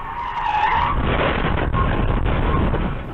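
A car's tires skid and squeal loudly and continuously as a teen driver loses control and careens off the road, a harsh sustained screech with engine roar beneath.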